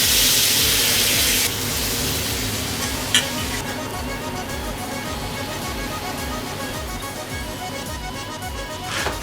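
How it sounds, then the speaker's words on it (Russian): Drops of beef broth sizzle and hiss as they evaporate on a red-hot frying pan, a loud, continuous crackling wash, with a short bright burst partway through over a faint rhythmic pulsing beneath. "несколько капель попадают на сковородку и этого бульона, и они с шипением испаряются"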